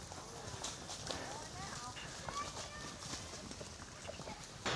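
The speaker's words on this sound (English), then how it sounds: "the cows are on the move" A cattle herd on the move during a cattle drive across Alaska: steady trampling hooves and shuffling under a low outdoor bed, with scattered calls and a few bird-like chirps, moderately faint.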